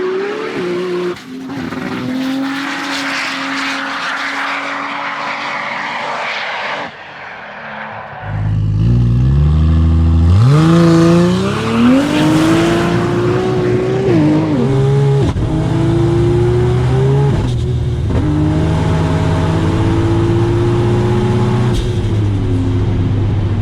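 A Ford Territory drag car on Volk T37 wheels, Brembo brakes and M&H Racemaster drag radials launches at a drag racing event, its engine roaring loudly and climbing through revs with tire squeal, continuing strong and close throughout.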